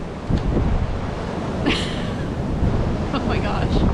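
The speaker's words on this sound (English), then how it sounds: "we've got the wind." Strong wind buffets an outdoor microphone, a loud continuous low rumble with gusts swelling and easing throughout, briefly joined by faint sounds that may be a voice.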